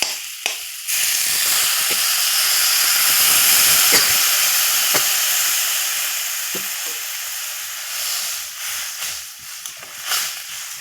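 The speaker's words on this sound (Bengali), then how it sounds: "খুব ভালো করে কষিয়ে নিয়েছি এখন আমি দিয়ে দেবো জল" Water poured into a hot pan of spiced egg curry masala, bursting into a loud, continuous sizzle and hiss that slowly fades and turns patchier, with a few clinks and stirring sounds near the end.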